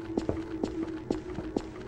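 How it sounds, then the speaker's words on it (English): Steady, evenly spaced footsteps of a slasher approaching in a horror video game, about four or five muffled thuds with a humming tone behind them, moderately close. "Oh no, I hear footsteps."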